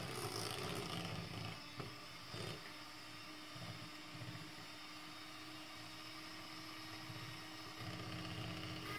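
An electric beater whirs steadily as it beats an egg into cake batter, a loud, continuous motorized drone close by, with slight changes in pitch as it moves through the bowl.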